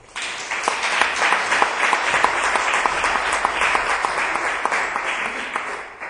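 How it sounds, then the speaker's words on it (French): Sustained, dense audience applause fills a conference hall in Mirecourt, steady and loud throughout with no voices over it. "je vous demande d'applaudir très fort"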